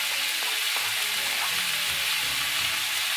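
Sausage meat and diced onion fry in a hot pan, a loud, continuous sizzle that holds steady throughout with light stirring noises underneath.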